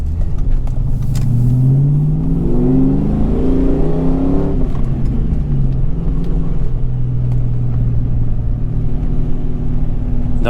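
A 1994 Ford Mustang GT's engine revs and rumbles while driving, deep throaty surges climbing and falling in pitch over a continuous low drone, loud and close from inside the car.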